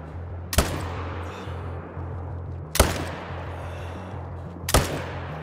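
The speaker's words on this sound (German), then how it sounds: "Okay, wir haben fünf Schüsse abgegeben." Three loud rifle shots ring out in theHunter: Call of the Wild, fired at a herd with a high-caliber weapon, each a sharp crack spaced about two seconds apart over low ambient hum.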